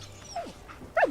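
A dog in the Fallout 4 video game gives two short whimpering barks, close and clear, without talk.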